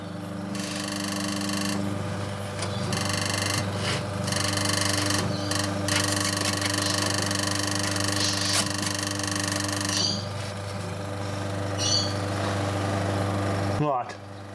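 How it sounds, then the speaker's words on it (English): A Frigidaire fridge compressor runs with a persistent mechanical rattle, a loud steady hum with buzzing vibration throughout, a voice speaking briefly over it, before the noise cuts off near the end. "Something's rattling somewhere."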